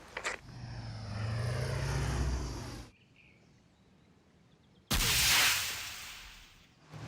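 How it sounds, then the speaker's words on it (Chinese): A military drone's engine drones steadily overhead in a war film, fading to quiet before a second loud, rushing pass swells in and tapers off. "朱参谋长刚说，刚刚击落一架蓝军无人机，又发现另一架无人机。"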